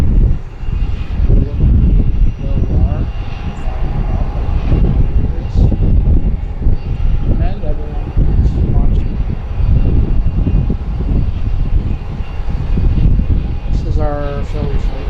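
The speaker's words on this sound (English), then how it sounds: "our Philly flight that just landed." A passenger airliner in from Dallas lands at Harrisburg airport, its engine roar a steady, broad drone that fills the whole stretch, with people talking over it throughout.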